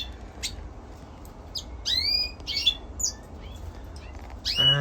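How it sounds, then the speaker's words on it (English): Canary-goldfinch mule hybrids sing in an aviary, with bright chirps, warbled phrases and short squawky notes from nearby birds in scattered bursts over a steady low hum. "These mules sing a lot."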